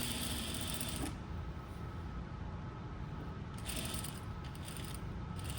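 A sewing machine stitching a shirt collar runs in a steady, quiet mechanical whir, fairly soft and continuous, with no voices over it.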